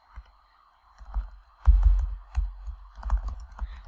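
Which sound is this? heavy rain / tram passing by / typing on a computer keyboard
typing on a computer keyboard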